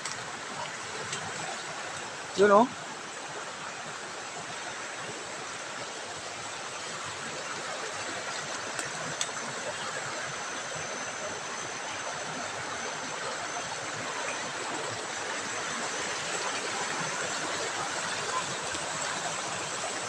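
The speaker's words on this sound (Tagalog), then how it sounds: "Malakas na ang agos ng tubig dito" A strong creek current rushes after rain, a steady broadband flow of water running continuously and evenly, with a brief voice near the start.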